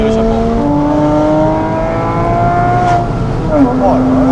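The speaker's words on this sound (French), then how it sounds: "quand je relâche, on a des petits retours. Parce que t'as l'échappement, mais la carto est d'origine." A Porsche Boxster S with an aftermarket exhaust and stock engine mapping runs loud and close, its engine note rising and falling; around three seconds small crackles and pops burst out as the throttle lifts, with speech faintly present.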